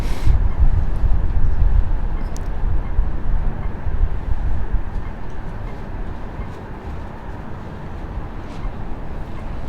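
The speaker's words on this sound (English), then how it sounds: "Train arriving at Birmingham International." Steady low rumble of a train rolling into Birmingham International station, loud at first and easing off as it slows, with faint high squeals.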